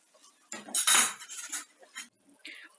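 Spinach puree with ground green chillies stirred in a pan, heard as a few close, clattering scrapes of a spoon against metal over about three seconds, with no talking.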